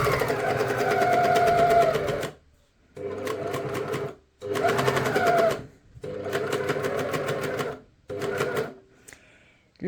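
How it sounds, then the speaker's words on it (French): Serger overlock machine sewing a shirt seam, running in five loud, fast-whirring bursts separated by short pauses, its rapid stitching rattle close and steady within each run, no voices. "je démarre mon surjet"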